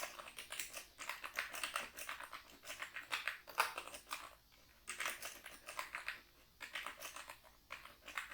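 Steady, close computer keyboard typing while entering Urdu text in Photoshop, with bursts of quick key clicks broken by short pauses, no talking.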